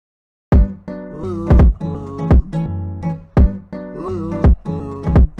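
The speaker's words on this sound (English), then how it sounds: "I went and added me some kicks" Punchy kick drum hits land in a steady beat under a sustained, harmonically rich synth loop, with about six strong low thumps.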